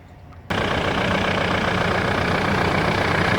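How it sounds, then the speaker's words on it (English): A 1999 Mitsubishi Pajero's 3.2-litre diesel engine starts abruptly after a quiet moment, then runs at a steady, loud, gritty idle close by. "Now you run the engine until it reaches the operating temperature"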